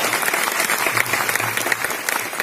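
An audience at a stage event applauds loudly and continuously, a thick, sustained burst of many hands clapping that fills the whole moment, with faint voices mixed underneath.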